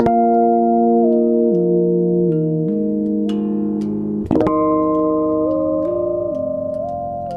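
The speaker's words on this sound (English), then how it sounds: "I just like that sound of everything kind of moving" Sustained low notes on a custom ZON HyperBass slide and step in pitch as the strings are retuned mid-ring, with a sharp pluck near the middle, no voices.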